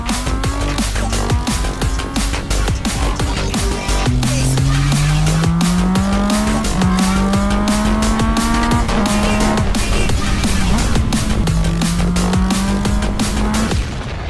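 A Yamaha MT-09 motorcycle engine revs loud and close for the whole stretch, its pitch climbing through gear after gear in repeated rising sweeps, with a steady roar and wind underneath.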